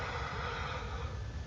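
Cavalry horses whinny in a Total War: Rome 2 battle, the neighing blended into a dense roar of clashing troops and battle noise.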